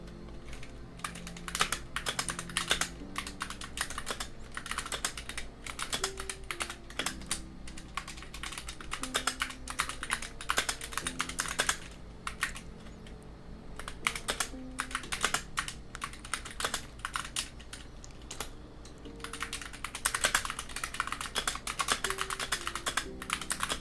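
Rapid, steady typing on a computer keyboard, close and crisp, with dense clattering keystrokes running throughout and brief pauses between bursts, no talking over it.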